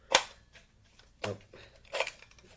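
Firearm action cycled by hand on snap caps at a bench, three sharp metallic clacks spaced about a second apart, close and crisp with quiet gaps between.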